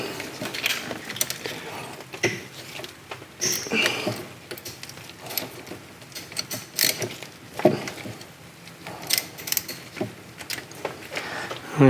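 A hand wrench loosening the cam bearing cover bolts on a VW TDI PD engine, producing repeated close metallic clicks, ratcheting and clinks in an irregular rhythm with short pauses between turns.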